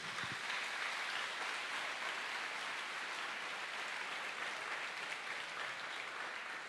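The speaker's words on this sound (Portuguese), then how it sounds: "Vamos dar um aplauso ao Senhor por isso" A church congregation applauds in praise to the Lord, a dense, even wash of clapping heard quietly and somewhat distant, continuing steadily throughout without voices.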